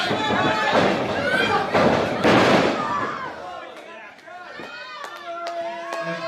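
Wrestling slams in the ring during a match, a rapid series of loud thuds and impacts over a roaring, cheering crowd, with a commentator talking throughout.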